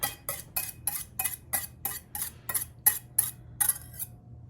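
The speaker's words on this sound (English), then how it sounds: "This will just whisk up a bit and then add it." A whisk beats one egg in a bowl for a snapdoodle coffee cake batter, with about a dozen quick, even metallic clinks against the bowl in a steady rhythm, close and clear with no talk.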